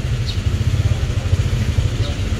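A 2019 Honda Genio scooter engine running at idle close by, a steady low putter with slight clatter and faint background noise, no talk over it.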